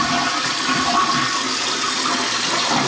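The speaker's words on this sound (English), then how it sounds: "So I'm gonna go ahead and flush it, and I'll show you guys here." Toilet flushing after a new fill valve is installed, a loud rushing swirl of water that runs steadily and close by, with no voices.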